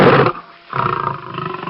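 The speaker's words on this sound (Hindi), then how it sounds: "साथी शेर सिम्बा को भगा देते हैं।" Lions roaring in a cartoon jungle story: two loud, close roars with a brief pause between them, the second one long and rumbling, with no talking.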